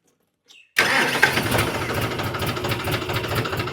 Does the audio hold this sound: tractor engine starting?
yes